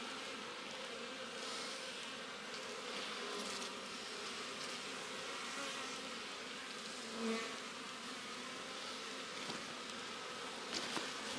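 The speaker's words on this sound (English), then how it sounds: "This hive is a pretty nice strong hive, as you can see. It has bees all the way down through both brood chambers." Bees in a strong winter beehive, filling two brood chambers, give off a soft, steady, continuous buzz with a faint hum throughout.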